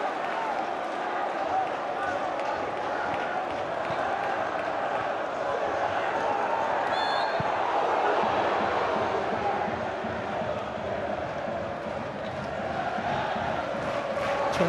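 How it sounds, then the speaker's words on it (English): A packed football crowd at a Wrexham versus Sheffield United FA Cup fourth-round match roars and cheers continuously, a dense wall of stadium noise under a commentator's talk. "They are cheering everything here."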